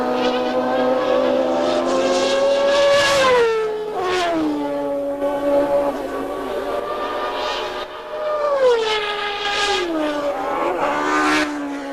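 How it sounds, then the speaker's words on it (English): Honda V10 Formula 1 engine racing at the 1990 Brazilian Grand Prix at Interlagos, a loud high-pitched wail that rises and falls through gear changes as cars pass, sustained across the whole stretch with no talk. "Beautiful engine note that V10 Honda"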